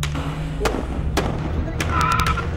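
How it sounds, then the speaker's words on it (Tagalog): Rapid gunshots fired at a vehicle, a few sharp separate cracks spread over a couple of seconds, heard under steady background noise and murmuring voices. "Pinaulanan ng magkakasunod na putok ng baril ang sasakyan"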